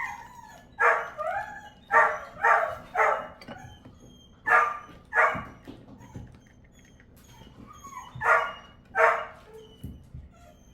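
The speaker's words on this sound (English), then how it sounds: "Yep, he's home. They're barking." Several dogs bark in bursts of two or three, loud and close, with short pauses between volleys and a few higher yips mixed in.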